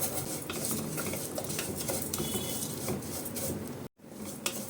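Vermicelli roasting in ghee for a custard fruit salad, stirred steadily in a pan, with a continuous scraping and faint crackle of utensil against metal, close and moderately loud, broken by a short dropout near the end.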